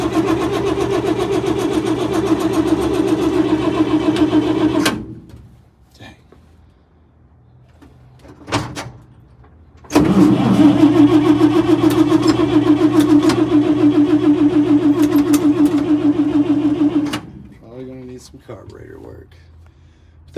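A 1953 M43 Power Wagon ambulance engine runs loud and steady for about five seconds, cuts out, then roars again for about seven more seconds before stopping, with a short mechanical clatter in the quiet stretches.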